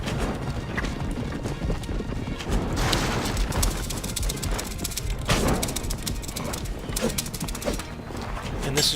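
A horse gallops hard in a video game, with rapid, loud clip-clop hoofbeats throughout and neighs breaking through amid the clatter of combat.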